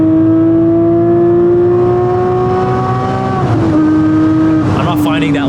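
A modified Porsche Cayman GT4 engine drones loudly on a race track, holding steady revs, then dropping in pitch with a brief shift, with talk over the sound.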